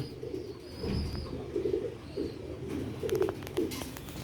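Sialkoti rooftop pigeons coo in repeated low throaty bursts, several overlapping calls at close range over a soft background hum, with no talking.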